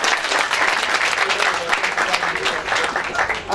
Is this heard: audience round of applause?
yes